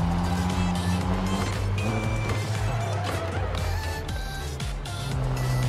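A car drives in the NTE video game, a steady engine drone under game sounds and music, with a person talking over it.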